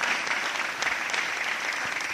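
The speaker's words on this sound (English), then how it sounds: "Clap your hands for him." A church congregation claps steadily through the whole stretch, a dense, even crackle of hands at moderate loudness with no voices over it.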